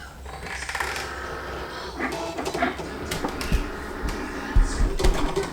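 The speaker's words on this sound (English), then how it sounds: "And you can see here that it is now cutting." A Cricut Explore Air cutting machine slices craft foam with a steady mechanical whir, carriage movement and clicking shifts, plus a couple of louder knocks near the end.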